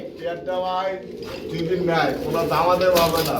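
Kaldom Musaldom pigeons at a market stall coo in soft, rolling phrases close by, partly mixed with people's voices talking nearby.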